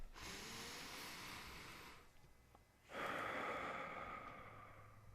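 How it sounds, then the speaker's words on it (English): One deep breath is drawn in through the nose for about two seconds, then let out in a strong, close, airy exhale, with no talking. "it's as simple as just taking a deep cleansing breath"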